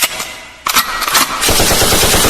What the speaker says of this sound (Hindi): गोलियों से आवाज होगा।